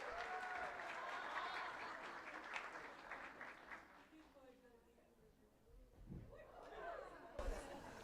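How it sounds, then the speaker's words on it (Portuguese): Congregation in a church applauding during a Christmas service, a dense wash of clapping mixed with crowd chatter that fades midway, then swells again with a few louder claps near the end. "Vamos aplaudir mais forte, meus irmãos"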